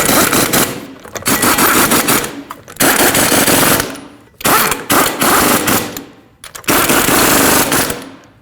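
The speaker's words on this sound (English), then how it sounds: "We'll start on all 5 lug nuts, bottom them out in a cross pattern" An impact wrench runs lug nuts onto a 2014-2019 Cadillac CTS rear wheel during a brake job, firing loud rattling hammering bursts close up, four long runs separated by short pauses, with no talk.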